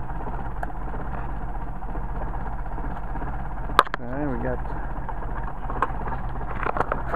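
A Mercedes 190SL with a Solex carburetor idles slowly at about 400 RPM, a steady low rumble running throughout beneath a man's nearby speech, with a brief sharp click midway.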